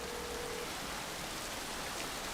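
Steady, dense rain falls throughout, a continuous hiss with no voices.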